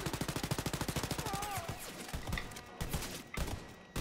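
Rapid, evenly spaced bursts of gunfire come from a shotgun in Wolfenstein Youngblood, loud and close. A dense rhythmic volley is followed by scattered shots and impacts in the game's combat.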